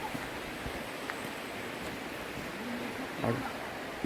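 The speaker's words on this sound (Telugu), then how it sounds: "చూడండి వాటర్ ఫాల్ అనేది అద్భుతం" A waterfall on a forested hill trek gives a dense, constant roar of falling water that fills the scene evenly, with faint voices murmuring underneath.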